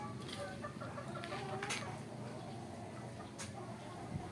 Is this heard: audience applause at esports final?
no